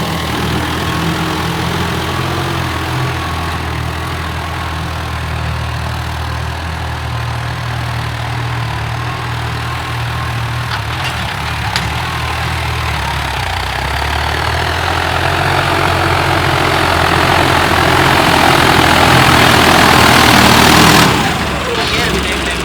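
A turbocharged John Deere tractor engine runs with a steady, loud low rumble that builds toward full revs near the end, then cuts off sharply; people talk over it.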